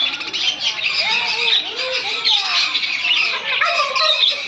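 A crowded aviary of caged birds at a Bandel ashram produces a steady, loud wall of overlapping squawks and shrill calls, with faint human speech beneath the chatter.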